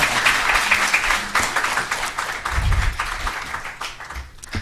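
A lecture crowd claps to welcome a guest: a dense, continuous wash of many hands, fairly loud, with no clear talking.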